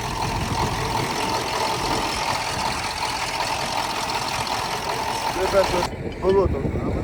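Belarus T-150 tractor engine running with a flat-cutter plough on a farm. It gives a continuous, moderately loud rumbling drone with some voices and noise over it, and it drops away near the end.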